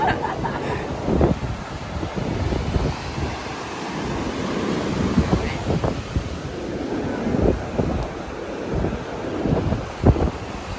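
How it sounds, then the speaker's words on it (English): Strong wind buffets the microphone at a beachfront in Treasure Beach, Jamaica, with surf rolling and breaking in a steady wash and gusty bursts throughout, no clear talking. "It's very windy and it might rain today."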